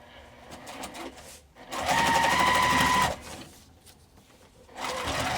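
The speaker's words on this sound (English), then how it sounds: "I'm going to top stitch on top of the vinyl" A sewing machine runs a top-stitching line through vinyl on a crossbody bag, first in short softer bursts, then a loud steady whirring run, a pause, and another loud stretch.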